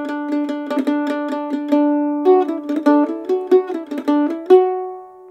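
A mandolin picks a lively Irish jig melody, its plucked notes ringing in quick groups with muted neighbor-tone triplet ornaments, played alone and close with steady dynamics.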